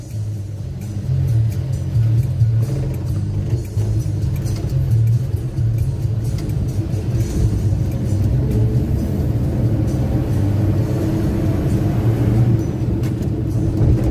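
A 1965 Chevy truck drives down Main Street with a steady, loud low engine rumble and road noise, heard continuously from close by.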